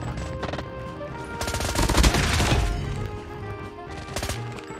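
Shotgun fire in a shooter video game comes as repeated sharp blasts and rapid bursts, loudest in the middle, with rattling gunfire continuing around them.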